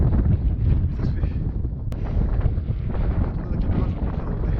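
Strong wind at a hilltop mountain pass buffets the microphone in a loud, continuous low roar that never lets up.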